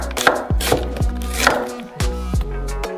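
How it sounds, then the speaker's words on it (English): A knife chops through onions being cut into half rings, part of working through a whole box of onions. The sharp, close blade strikes land against the board at a steady pace of roughly two per second. "Just chop the onion into half rings."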